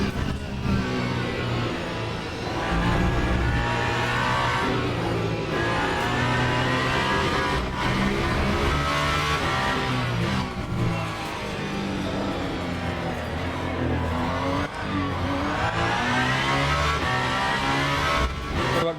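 Race car engine droning steadily through laps in a racing video game set at circuits such as Qatar, Imola, COTA and Interlagos, loud and continuous with shifting pitch as it revs through corners and straights, no talk over it.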